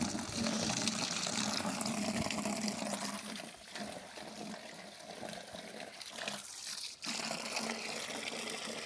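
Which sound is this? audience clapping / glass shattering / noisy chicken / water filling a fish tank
water filling a fish tank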